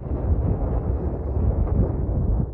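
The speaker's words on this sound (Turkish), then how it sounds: "Rusya'daki Ebeko yanardağ büyük bir gürültüyle patladı." A deep, continuous roaring rumble with a heavy low end, steady and loud throughout, from the Ebeko volcano erupting in Russia, heard at a distance.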